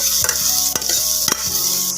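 Spice powder with dried curry leaves sautéing over a slow simmer in a pan for rasam, a close, steady sizzle broken by sharp scraping stirs, with no voices.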